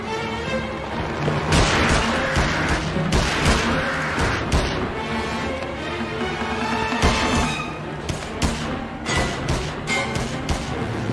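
Rapid 9mm pistol fire in the King Kong video game, many loud sharp reports close together in bursts over dense action sounds and score, with a short lull near the middle before the shooting resumes.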